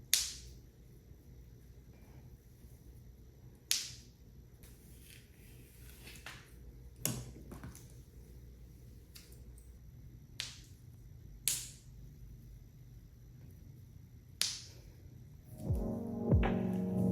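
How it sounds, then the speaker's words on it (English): A seamless clip-in hair extension snaps shut close up in a quiet room, heard as about eight sharp, crisp clicks spaced a second or two apart over a faint background hum. "you have to listen for that snap"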